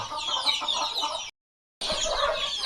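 Free-range native hens on a poultry farm cluck and murmur close by, a busy overlapping chatter that breaks off briefly, then resumes.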